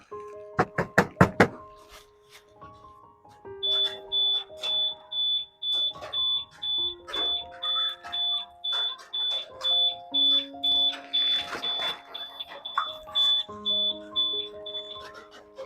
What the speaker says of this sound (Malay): alarm akan berbunyi kalau motor kita diganggu